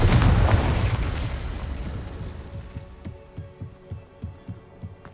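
A Confringo spell explosion in the video game Hogwarts Legacy bursts loudly at the start and rumbles away, followed by a run of regular low thumps.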